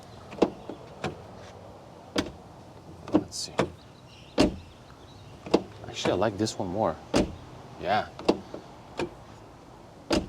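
Doors of a 2025 BMW X3 G45 and the older G01 are shut several times in turn, each a solid, heavy close-range thud with sharp impacts spaced a second or two apart, while a person talks between them.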